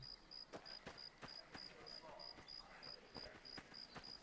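Close, loud cricket chirping repeats at an even rhythm inside Fallout: New Vegas, its shrill pulses continuing steadily over quiet game ambience with a faint voice underneath.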